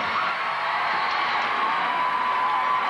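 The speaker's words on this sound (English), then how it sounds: "the cheering you heard was for Jamie Dancer" A large arena crowd cheers and whoops steadily at a women's collegiate gymnastics championship, a dense continuous roar with no breaks.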